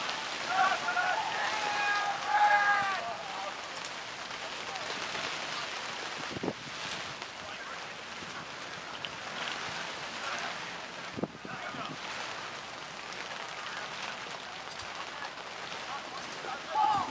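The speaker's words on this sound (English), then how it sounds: "Starting to rain now." Rain falling outdoors at an ultimate frisbee match, a soft continuous hiss of drops on surfaces with wind buffeting the microphone, a few sharp knocks, and faint voices in the background.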